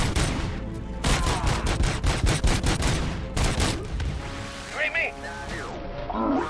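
Rapid gunfire crackles in repeated bursts during RoboCop: Rogue City gameplay, including a headshot, loud and close, then quietens as someone talks over the game's sounds.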